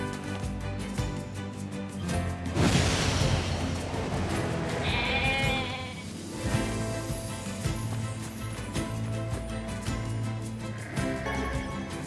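A sheep bleats in the video game NieR Replicant: a couple of wavering bleats rise over steady game music and ambient effects.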